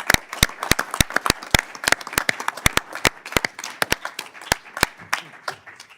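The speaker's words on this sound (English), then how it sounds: "give a quick round of applause to our 2 departing members" Scattered hand claps from a small group in a formal congressional committee business meeting honoring two departing members, sharp separate slaps at an uneven pace, fairly close and unaccompanied by talk.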